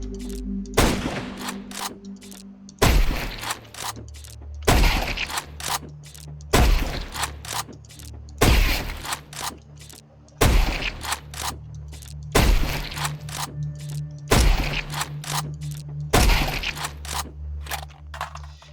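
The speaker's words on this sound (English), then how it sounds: "So I'll do 10 more shots and then I'll finish this one off." Repeated gunfire from Counter-Strike 2 during a warm-up on a workshop practice map, with about eight loud, evenly spaced bursts of shots over a steady low game hum, no voices.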